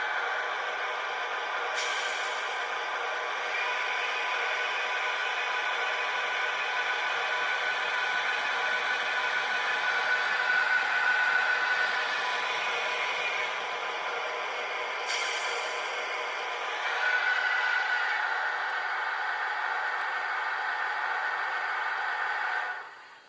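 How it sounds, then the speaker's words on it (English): A model TGV La Poste train fitted with an ESU DCC sound decoder running an electric locomotive sound file gives a steady, deep droning hum with a couple of brief hissing bursts, then cuts off abruptly at the end. "We've got a nice sound, deep bass now. And the motor is synchronised with the moving off of the train."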